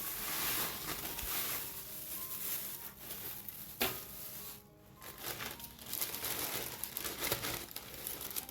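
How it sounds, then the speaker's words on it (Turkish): A large plastic freezer bag stuffed with frozen hangel dough leaves crinkles and rustles close by in irregular bursts of crackling, with a brief pause midway before the handling resumes. "Büyük boy bir buzdolabı poşetinin içerisine hangel yapraklarını dolduruyorum"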